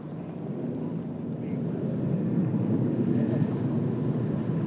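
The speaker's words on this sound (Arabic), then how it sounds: "يليها تشكيل ثنائي من طائرات ميراج 2000 التابعة لدولة الإمارات العربية المتحدة" A pair of UAE Mirage 2000 fighter jets passes overhead during the final day of the North Thunder military exercise, a steady broad roar that swells gradually and holds loud throughout.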